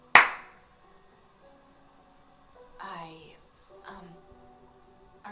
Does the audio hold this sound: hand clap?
yes